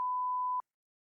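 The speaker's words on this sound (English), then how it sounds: "I'm going to have to beep this out" A censorship beep covers a spoken word: a single pure electronic tone held steady for about half a second, then cut off abruptly into silence.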